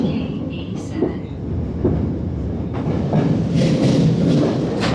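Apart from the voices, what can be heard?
underground train arriving at a station in Japan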